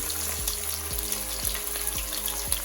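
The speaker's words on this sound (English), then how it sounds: "Browning it is basically semi-frying it, getting the brown color on the outside of the chicken." Chicken sizzles and fries in a pan while browning for Jamaican brown stew chicken, a steady crackling hiss with periodic soft thumps as pieces are moved.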